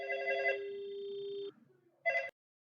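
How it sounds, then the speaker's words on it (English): An APM 40 emergency phone handset gives a ringing tone: a sustained electronic tone that cuts off, followed after a short gap by a brief second burst, close and clear with no talking. "In the handset you hear ringing tone."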